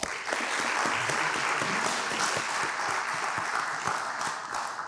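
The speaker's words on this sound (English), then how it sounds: "So please give them a round of applause." A dense round of applause from an audience at a Gwinnett County youth commission celebration, steady and loud throughout with no talk.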